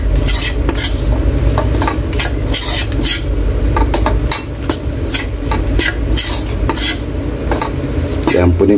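A spoon stirs and scrapes through a tuna steak mixture in a cooking pot, with loud, steady metallic clinks and scraping strokes repeating over a continuous low sizzle and background rumble.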